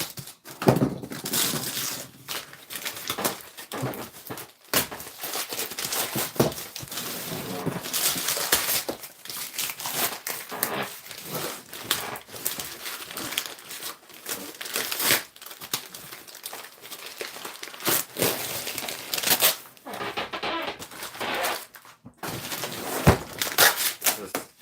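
A heavily taped gift package is unwrapped: continuous close crinkling of paper and plastic with tearing and ripping tape sounds, loud and busy throughout, with occasional faint voices.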